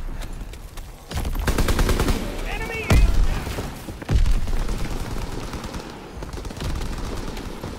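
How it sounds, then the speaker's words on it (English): Gunshots in the WWII shooter Call of Duty WWII, a few sharp bursts and single loud cracks over a busy game mix with a brief whistling tone in between. "God damn it, I shot the wall."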